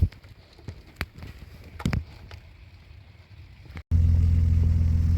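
A BMW E34 5 series with an M50B20 engine, prone to cutting out and misfiring when warm, idles high while cold, with scattered clicks and knocks before a loud, steady engine drone cuts in abruptly near the end.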